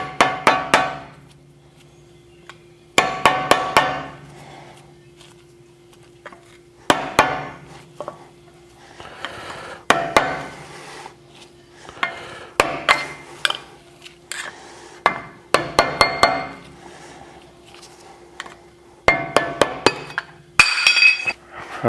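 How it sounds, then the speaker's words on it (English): Hammer and chisel tapping out a part on a Classic Wagoneer, bursts of sharp metallic clinks in quick runs, each group followed by a lingering ring and a pause. "I'm going to chisel that away here real quick. So we're just going to tap this out."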